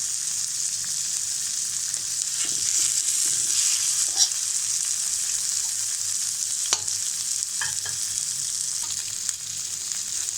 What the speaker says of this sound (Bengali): ফুলকাগুলোকে আমি উল্টে পাল্টে মচমচে করে ভেজে নেব